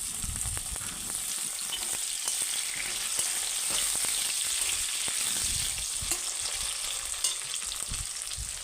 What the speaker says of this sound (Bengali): এখন আমি এখানে টমেটো একদম কুচিয়ে নিয়েছি টমেটো কুচানোগুলো দিয়ে দেবো